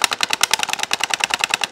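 Rapid gunfire from a light gun video game with synced recoil, a steady fast rattle of evenly spaced shots, loud and close, with no voices.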